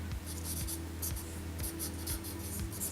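Pencil sketching on paper while drawing a comic character's face, a steady scratchy rasp of quick repeated strokes with a roughly half-second rhythm, close and continuous under a low hum.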